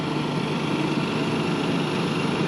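A 2019 Freightliner 122SD truck engine idles close by, a steady, even low rumble with a constant hum that holds without change.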